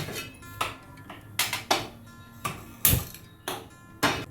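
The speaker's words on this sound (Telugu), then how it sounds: "ఇప్పుడు మనము స్టవ్ ముట్టించుకొని బగోన పెట్టుకుందాం." A metal cooking pan being set on a stove while making egg onion pulusu, heard as a series of sharp clanks and knocks, irregular and fairly close, with quiet gaps between them.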